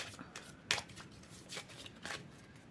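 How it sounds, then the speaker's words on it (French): A deck of tarot cards being shuffled by hand, three or four soft riffling bursts in a quiet room, fairly faint and close. "battre mes cartes"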